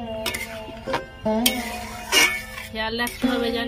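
Homemade tomato sauce being stirred in a wok with a metal utensil, giving scraping strokes and clinks against the pan while a person talks over it.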